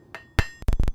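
Metal strikes of a hammer on an anvil while forging a small piece in a smithy, a few sharp ringing blows, near and loud, with a quick double hit near the end.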